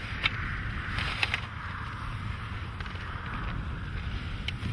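Wind gusts across an open outdoor spot at a layout hunting blind, a steady low rumble of buffeting against the microphone with faint rustling and scattered light ticks, no talking.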